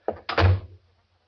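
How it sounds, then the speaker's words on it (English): An indoor door is swung shut: a quick knock-like clatter, then a heavy close thud that fades out in under a second. "I said to shut the door."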